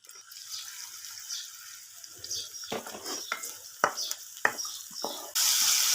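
Cumin and finely chopped onion fry in a hot pan for a saag, a soft steady sizzle with scattered stirring scrapes and clinks up close, ending in a louder burst of hiss.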